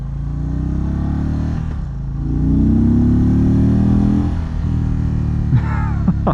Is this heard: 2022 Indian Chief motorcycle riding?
yes